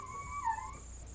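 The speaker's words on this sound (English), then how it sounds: "sorry about the dog crying in the background" A dog caged after a bath whines and howls in the background, a thin wavering cry that rises and falls, faint under a low steady hum.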